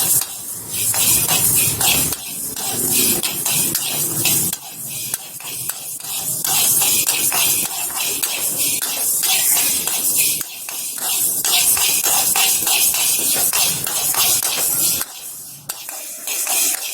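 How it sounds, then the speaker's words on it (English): Methi seeds fry in a pan for tomato chutney, a loud crackling sizzle broken by repeated scraping strokes of a spoon against the metal, with a few brief pauses. "We have to continuously keep stirring like this."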